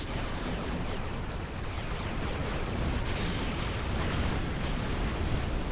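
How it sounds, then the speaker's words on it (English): Dark matter torpedo explosions in the space combat game Star Trek Online, a steady, heavy roar of overlapping blasts and booms forming a dense rumbling wash throughout, loud and unbroken. "Dark matter torpedoes."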